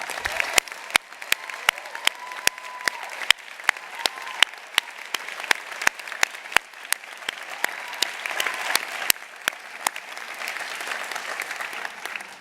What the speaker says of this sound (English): I notice we clap loudest when we see our own kind of taking a step within the university